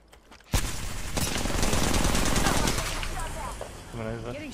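Sustained automatic gunfire in the video game Apex Legends, a loud rapid stream of shots that starts abruptly and rattles on for several seconds, then fades as a voice briefly comes in at the end.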